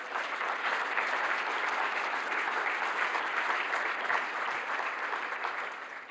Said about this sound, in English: A big applause for ZBW.